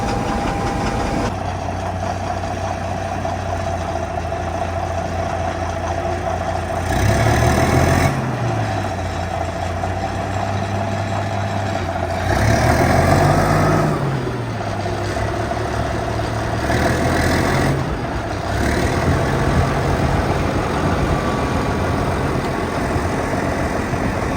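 A Caterpillar D9 bulldozer's engine idles with a steady, close, low diesel rumble, swelling briefly in a few short revs spaced several seconds apart.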